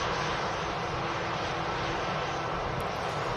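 A Lufthansa Airbus A320 in Star Alliance livery at Manchester Airport, a loud, steady jet engine roar filling the whole stretch without pause.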